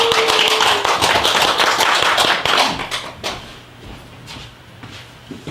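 An audience at a memorial concert claps loudly and densely to welcome a guest speaker. The applause thins out after a couple of seconds into a few scattered claps and quiet room noise.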